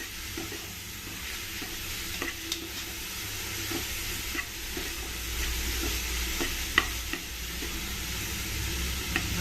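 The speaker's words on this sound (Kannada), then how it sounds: "ಇದನ್ನು ಚೂರು ಸ್ವಲ್ಪ ಫ್ರೈ ಮಾಡ್ಕೊಳ್ತೀನಿ ಒಂದು ಎರಡು ನಿಮಿಷ" Dill leaves frying in a pan, a continuous loud sizzle with scattered scraping taps from stirring, no voices over it.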